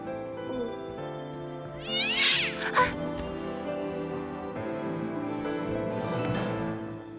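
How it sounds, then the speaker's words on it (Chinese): A cat meows loudly and close by, one drawn-out call followed by a softer second meow, over a steady background hum. "是只小猫"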